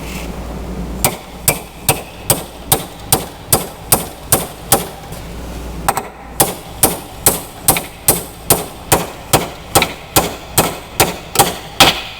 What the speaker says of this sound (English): we'll drop this roll pin home